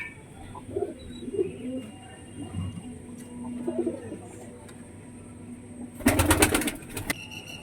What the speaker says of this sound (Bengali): এবার দেখি এইখানে একটা পায়রা আছে